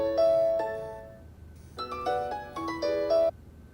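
A phone rings with a bright, melodic electronic tone, playing two short bursts of notes, a pause, then a longer repeating phrase, close and clear.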